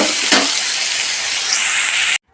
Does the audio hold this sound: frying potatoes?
yes